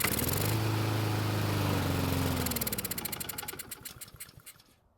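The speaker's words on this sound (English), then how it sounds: "the engine started and ran for a few seconds, but the bad news is that it didn't stay running" A Troy-Bilt lawn mower engine starts with a loud, steady running roar for about two seconds, then sputters and dies away as the firing pulses slow and fade to silence.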